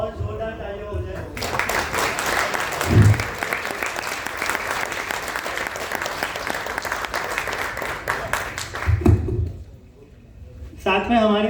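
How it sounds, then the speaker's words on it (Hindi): Loud, dense audience applause at a Hindi lecture on wars rises after someone speaks into a microphone, roars steadily for about eight seconds, then drops away as he resumes talking. "और जोरदार तालियां हो जाए।"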